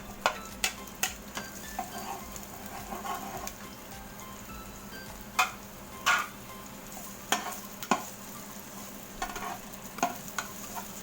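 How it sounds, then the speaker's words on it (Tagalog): Onions and garlic sautéing in a frying pan, with a soft continuous sizzle and scattered stirring clicks and scrapes of a utensil against the pan, fairly quiet throughout. "Yan, lagyan na natin ang sibuyas."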